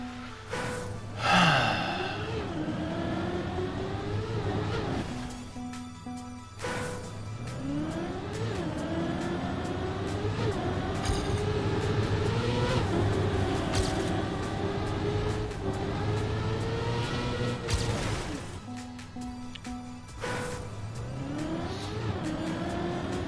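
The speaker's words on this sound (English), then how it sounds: "Car engine almost sounds like a cat." A racing car engine in the video game Trackmania whines and revs continuously, pitch climbing and dropping through gear changes, with a few sharp higher bursts; no talking.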